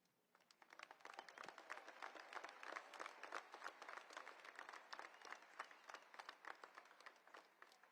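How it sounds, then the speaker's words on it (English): Audience applause at a US Air Force Academy commencement ceremony honoring the academy band, a dense sustained clapping from a large crowd that swells quickly and holds steady before slowly thinning. "Applause for our Air Force Academy Band."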